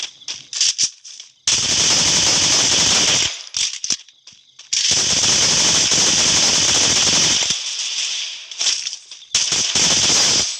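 Rapid automatic gunfire in the shooter game Free Fire, AK-47 fire included, comes in loud sustained bursts with short gaps, close and dominant with no talk over it.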